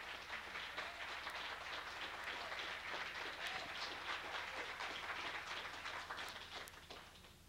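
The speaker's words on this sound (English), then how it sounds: "Give Jesus a great big cheer." A church congregation claps and cheers in praise, dense rapid hand claps mixed with shouts spread across the whole stretch, heard faintly as from a distance.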